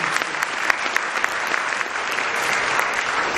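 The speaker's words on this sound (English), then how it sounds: "Please give him another round of applause, please." An audience at a Save the Children centenary celebration in Nigeria claps in sustained applause, dense and steady throughout, with a few sharper claps standing out near the front.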